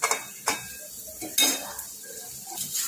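Onion, capsicum and cabbage stir-roasting in a pan, a brief faint sizzle with a few scraping stirs and light utensil knocks against the metal.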